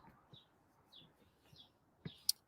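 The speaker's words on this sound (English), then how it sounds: "So listen to the birds, they're chirping." Birds near a blooming apple tree give a few faint, spaced-out chirps over quiet outdoor background, then one sharper, brighter call near the end.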